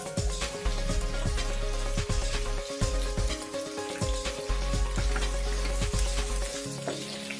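Onion frying with whole spices in a pan for Hyderabadi paneer, a loud, steady sizzle with repeated stirring scrapes and clatters running throughout, no voices.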